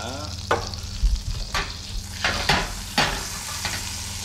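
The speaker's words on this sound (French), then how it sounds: "Now he's putting the duck into the pan skin side down first." Duck breasts sear skin side down in a hot pan with a strong, close sizzle, punctuated by several sharp spatters and light clatters of the pan at irregular intervals.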